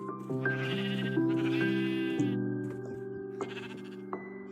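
Sheep bleat repeatedly in the video game Minecraft on a wool farm, several overlapping calls in quick succession, fairly close and clear, with a thin tonal hum running beneath them.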